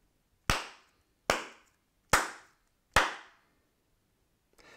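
Sharp hand claps made to sync audio and check room echo: four loud, evenly spaced claps, each followed by a short reverberant tail in an otherwise quiet room.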